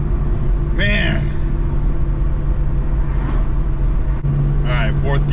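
BMW 135i tuned to 750 wheel horsepower pulling hard in fourth gear, a loud steady engine and boost roar from inside the cabin with a voice speaking briefly over it.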